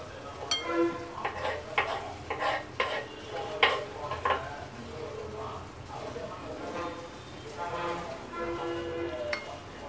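Boiled potatoes get mashed in a bowl for pani puri stuffing, with repeated soft squishing and scraping strokes of a utensil in an uneven rhythm, close by, while a person talks at times.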